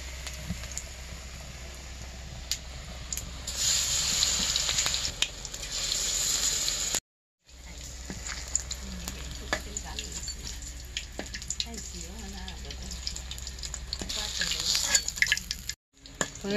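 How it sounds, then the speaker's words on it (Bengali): Banana flower pakoras frying in oil on a clay stove give a steady, close crackling sizzle that runs through the whole clip. There are brief breaks and occasional clinks and stirring sounds, and no voices. "বাকিগুলো এইভাবে করে ভেজে নিব।"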